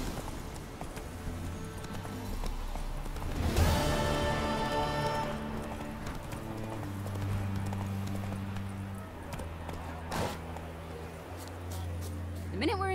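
Roach, a horse in The Witcher 3, runs with rhythmic clip-clop hoofbeats throughout, mixed with game music and ambient sound, while voices speak over it.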